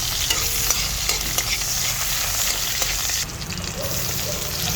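Garlic fries in hot cooking oil with a dense, continuous sizzle and crackle, and the occasional scrape of stirring is heard up close.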